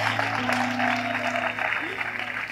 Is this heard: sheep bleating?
no